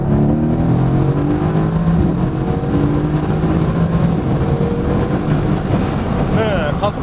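A Mercedes-AMG GT S, driven in Sport Plus mode with the exhaust flaps open, accelerates hard, its engine and exhaust roaring loud and continuous with rising revs, partly under wind noise.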